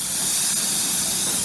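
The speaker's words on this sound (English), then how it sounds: "But we are spraying a decontamination product underneath the arches." A sprayer hisses steadily as it applies decontamination product under the wheel arches of a Mercedes C-Class, a close, loud, continuous spray with no talking.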